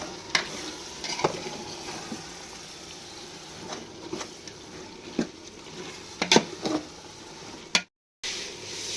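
Masala sizzles in hot oil while a spoon stirs and scrapes the pan in repeated irregular knocks, a close, continuous frying hiss running underneath.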